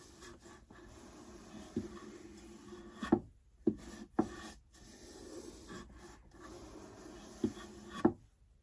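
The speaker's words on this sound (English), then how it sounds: "I have a cloth here. And I'm gonna start wiping this away." A cloth wipes a water-damaged wooden sewing box, with soft, quiet rubbing strokes and several sharper knocks as the cloth and hand bump the wood.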